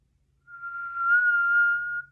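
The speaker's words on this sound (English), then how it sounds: "First, you're going to pretend like you're whistling." A single steady whistled tone from a person, held alone for about a second and a half with a clean, sustained pitch and no talk around it.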